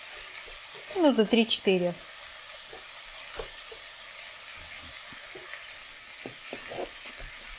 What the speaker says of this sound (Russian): Морковь добавляю в лук и обжариваю до мягкости моркови.